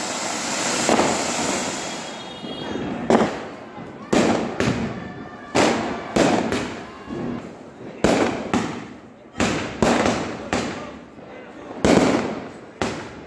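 Loud firecrackers explode one after another during Diwali celebrations in Jhansi, India, about a dozen sharp bangs at irregular intervals, each leaving a brief echoing tail.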